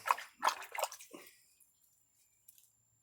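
Water splashes and drips close by in a few quick bursts as a rosemary cutting is put into water, then fades to near silence with a faint drip at the end.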